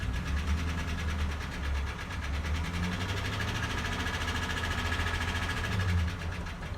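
A 2006 GMC Sierra's 5.3-litre V8 with 125,000 miles and a knock in the second cylinder, revving hard and loud with a steady rattling tone held throughout, no talking.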